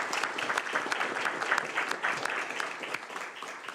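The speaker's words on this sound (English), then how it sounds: "So big round of applause for Estalee Weil." Steady applause from the audience at a county Board of Supervisors meeting, a dense wash of many hands clapping throughout at moderate loudness, with no voices on top.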